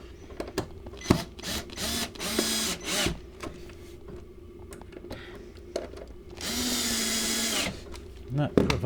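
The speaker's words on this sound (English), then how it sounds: "So I'll screw this down to the floor." Drill screwing a scrap plywood piece down to a workshop floor, several whirring bursts of varying length with a longer final run, close by, with someone talking between the bursts.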